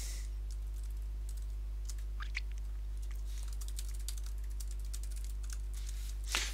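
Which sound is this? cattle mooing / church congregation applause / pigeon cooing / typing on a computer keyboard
typing on a computer keyboard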